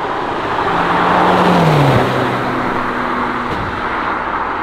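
A Ferrari 458 engine drones loud and close, its pitch sliding down then holding a steady tone, with no voices over it.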